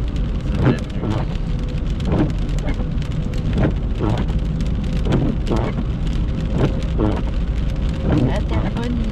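Steady rain in Verchères during a November storm, a continuous wash of falling drops with brief louder spatters, and faint voices now and then beneath it.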